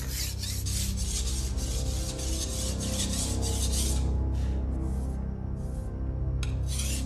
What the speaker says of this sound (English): he begins to polish. It can take a few days of rubbing, but all handwork